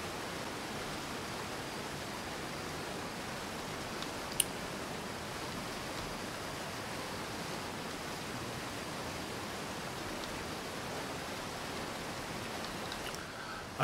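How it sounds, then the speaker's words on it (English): A soft, even rush of water in the video game Outer Wilds, like steady rain or a distant cascade, continues quietly throughout with no voices. "I can't deal with the water noises."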